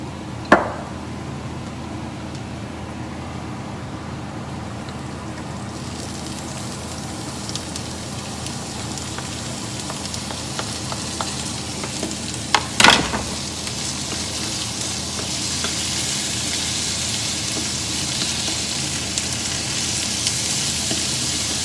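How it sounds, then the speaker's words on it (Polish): Onion and ham frying in a pan, a steady sizzling hiss that grows brighter as the ham goes in, with a couple of sharp clatters of utensils, no speech. "się rumieni cebulka, to wrzucę szynkę, żeby się trochę zagrzała"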